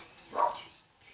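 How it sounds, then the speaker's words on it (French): A single dog bark or yip in an indoor office setting, brief and moderately close, rising once and fading quickly with no talk over it. "ça c'est le chien de Tony 28."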